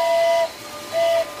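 A model electric train layout's steam whistle sounds two short, clear blasts separated by a brief pause, with no talking.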